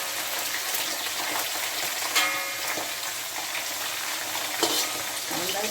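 Garlic and kanthari chilies sizzle in a pan while being stirred, a close, steady crackle of frying broken by a couple of sharper scraping clinks.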